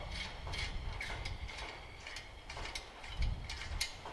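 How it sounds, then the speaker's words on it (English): Bolts and wing nuts being unscrewed by hand on a weed burner incinerator during assembly, giving faint, repeated metallic clicks and ratcheting scrapes at close range with no talking. "We'll undo these bolts here, the wing nuts for the bottom, and then this one here is for the top."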